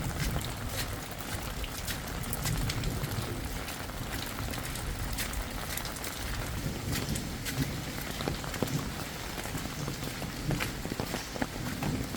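Steady rain pours over a village in Raghunathpur, Sirajganj, a dense unbroken hiss with scattered drips and patters close by, with no voices.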